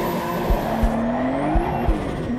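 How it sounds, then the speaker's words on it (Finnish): Tires squeal on a drifting car, a continuous high screech with a rising and falling tone over engine noise, loud and close, with no talk. "Auton renkaat savuu."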